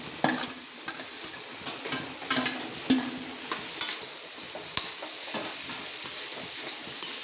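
Carrot and capsicum stir-frying in a pan for homemade egg fried rice, with a steady crackling sizzle and repeated scrapes and taps of a spatula stirring the vegetables close by, no voices.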